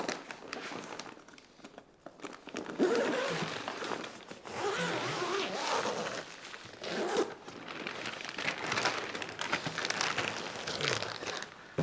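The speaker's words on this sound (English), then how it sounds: "Let's find the zipper here and open him up" A tent zipper is worked open in bursts of rasping, scratchy pulls mixed with fabric crinkling and rustling, fairly quiet and close, spread across about twelve seconds.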